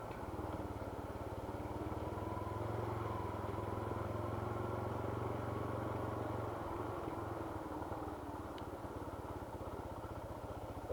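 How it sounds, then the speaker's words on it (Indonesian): A Yamaha Scorpio 225 cc motorcycle rides along a rural road under construction, its engine a steady close drone with constant road and wind rumble throughout. "Ini saya menggunakan motor Scorpio yang kapasitas 225 cc lewat jalur ini ya teman-teman."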